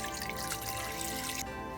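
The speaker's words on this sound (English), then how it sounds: "pour about 1 inch of water to steam the fish" Water pours into an Instant Pot holding a steaming stand, a close, steady splashing trickle that thins toward the end, with music playing underneath.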